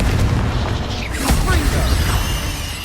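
A Confringo fire spell detonating in Hogwarts Legacy, a sharp booming blast that rises out of steady rumbling combat noise, with crackling debris trailing after it.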